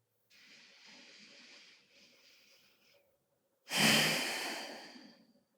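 A person breathes slowly and audibly close up, a soft drawn-out inhale followed after a pause by a louder, longer breathy exhale like a sigh.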